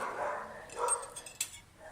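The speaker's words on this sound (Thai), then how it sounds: "เวลามีคนจูงหมาผ่านมาเนาะหมาหน้าบ้านนี่ก็ เห่าสะดุ้งเลย" A dog in front of a house barks through an open front door as someone walks another dog past. Two or three short, moderately distant bark bursts with a sharp click, no talking.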